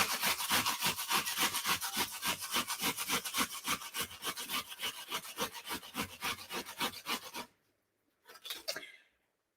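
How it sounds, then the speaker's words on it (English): Fresh tomatoes are grated by hand for a Spanish-style base, producing fast, even rasping strokes in a close, rhythmic run that stops abruptly, followed by a brief scrape after a pause. "This is actually a really common method in a lot of Spanish food, is grating it"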